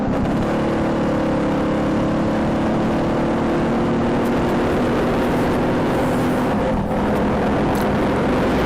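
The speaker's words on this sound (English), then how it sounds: "at least the Bantam engine seems to be running alright now" A BSA Bantam motorcycle engine runs steadily, a loud continuous two-stroke drone with a sustained tonal hum and wind rush, heard from close by while riding with no speech.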